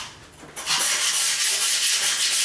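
A long-handled floor razor scraper pushed across a floor, starting with a faint rub and then a loud, continuous, close scraping rasp that holds steady for about two seconds, no talking.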